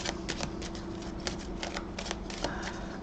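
Rapid riffling and flapping of tarot cards being shuffled close by, a steady papery rustle with crisp snaps scattered throughout.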